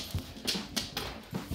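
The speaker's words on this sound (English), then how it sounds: "Oh, the dogs are going crazy." Several dogs in a backyard mini-farm with chickens let out a series of short, sharp barks, fairly faint and somewhat distant, spaced irregularly across a brief moment with no talking.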